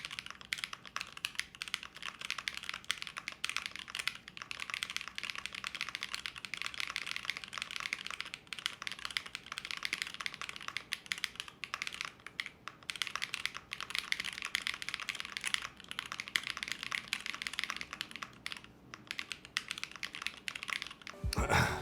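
Continuous typing on a computer keyboard, a busy stream of close, crisp keystrokes with uneven rhythm, fairly quiet overall.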